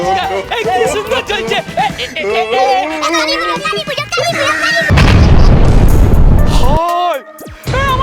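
A chocolate bomb firecracker goes off during Kali Puja festivities: excited voices chatter, then a loud, sustained blast of rushing noise lasts about two seconds before a voice resumes.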